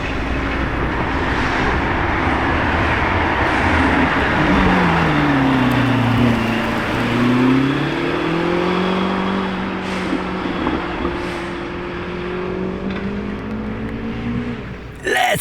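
A Lamborghini Temerario sports car engine drones loudly and steadily, its pitch rising and falling as the car drives past nearby, with faint voices in the background.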